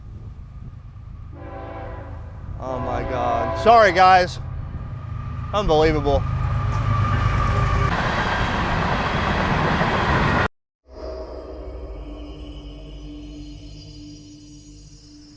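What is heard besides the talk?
train passing with horn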